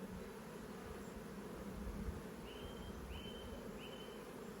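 Honey bees buzz steadily in a nuc box as they scurry inside, a constant close drone with a few higher whines near the end.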